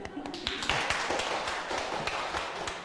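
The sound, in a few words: hand clapping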